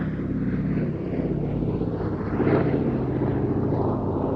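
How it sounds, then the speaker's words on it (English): The Boeing B-17 Flying Fortress Sally B at the IWM Duxford Battle of Britain Airshow runs in for its display, its piston engines droning in a low rumble that swells slightly midway, with some wind noise. "this one, Sally B, is the sole airworthy flying fortress in Europe, running in to start her display from the left"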